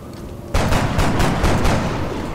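Gunfire in the turn-based strategy game XCOM Long War: a loud burst of several rapid shots starting after a brief quieter lead-in, with the sound holding strong and dense to the end.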